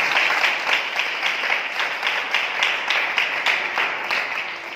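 Audience applause welcoming participants to a spiritual assembly, a steady wash of many hands clapping that holds at an even loudness for several seconds.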